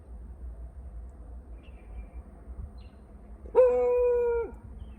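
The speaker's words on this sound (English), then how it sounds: "Who you barking at?" A dog lets out a single sustained, loud howl near the end after several seconds of low, quiet background rumble, with no barking clearly standing out.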